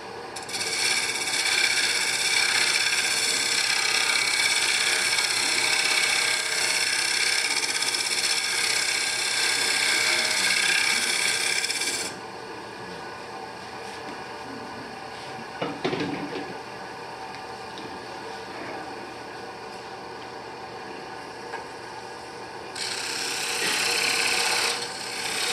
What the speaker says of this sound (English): This is a double bevel scraping tool.